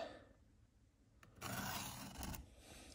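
A Leatherman blade is drawn across a Work Sharp guided field sharpener in quiet, close raspy strokes, a faint rub followed by a longer, louder scraping pass.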